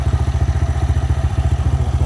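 A motorcycle engine runs alone with no key in the ignition, a loud, close, steady idling throb with rapid regular pulses and a slight rattling clatter.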